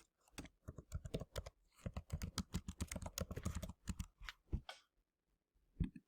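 Rapid keystrokes on a computer keyboard, typed in quick bursts of clicky taps with short pauses between words, close and clear with no talking.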